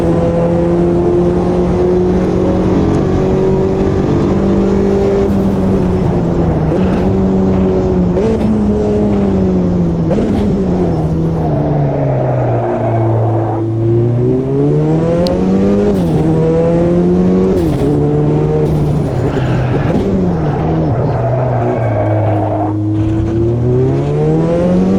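The Audi 90 Quattro GTO race car in Automobilista 2 drives at full throttle, its engine note rising and falling through gear changes. Brief hissing bursts from the blow-off valves cut in between shifts over the close, continuous roar.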